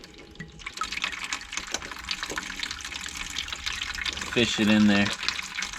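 Water drains from a water heater's drain valve in a steady gushing flow that swells louder near the end, with people talking over it.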